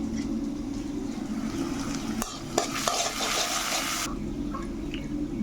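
A whole onion fries in a pan, making a continuous hiss and sizzle that swells into a louder, rushing burst in the middle before settling back, with a couple of sharp clicks.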